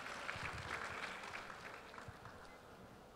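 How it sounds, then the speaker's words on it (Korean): An audience at an e-commerce conference fireside chat claps to welcome a Coupang executive to the stage, a quiet, distant patter of applause that slowly tapers off. "큰 박수로 맞이해 주시죠"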